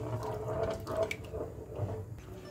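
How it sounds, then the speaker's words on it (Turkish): Hot water poured from a glass into a pot of tomato paste sauce on the stove, a continuous close splashing pour lasting a couple of seconds with no voices. "Ardından 1 su bardağı daha sıcak su ekleyelim."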